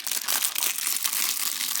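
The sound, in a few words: opening a fidget toy package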